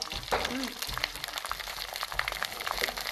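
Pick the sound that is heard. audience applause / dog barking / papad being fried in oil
papad being fried in oil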